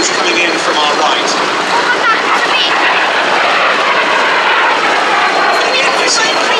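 A MiG-15 jet fighter flying past at the Duxford Battle of Britain air show, a loud, steady roaring engine wash filling the whole stretch, with commentary audible beneath it.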